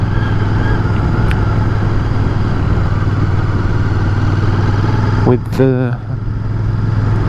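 A Royal Enfield Bear 650 motorcycle with a Euro-compliant exhaust runs in a steady throbbing idle, loud and close, before a brief revving burst near the end while someone briefly speaks.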